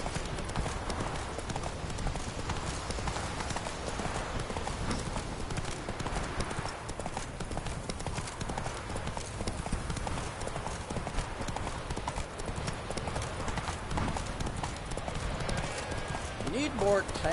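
Horse hooves clip-clop in The Witcher 3 game, a steady rhythmic trot of hollow knocks running continuously for the whole stretch, mid-distance and moderately loud, with a voice speaking over it.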